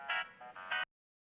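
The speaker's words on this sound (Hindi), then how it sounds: "हेतल, बेटा देख तो किसका फोन है।" An electronic ringtone trills in three short bursts, fairly clear and close, then cuts off into silence.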